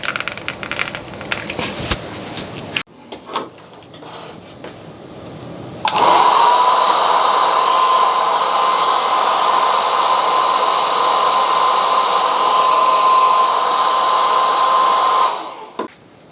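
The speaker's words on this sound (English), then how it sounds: "Might need to go get a hairdryer and warm this up actually before pulling it out." A hair dryer warms the leg joint of an S.H. MonsterArts Gamera action figure. Fumbling handling noises come first, then the dryer switches on and holds a loud, steady whine and rushing airflow for about ten seconds before cutting off.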